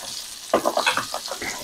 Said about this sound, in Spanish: El salmón lo ponemos a fuego fuerte